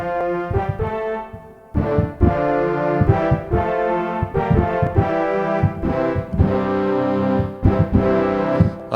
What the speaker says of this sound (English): Kind of a nice brassy sound.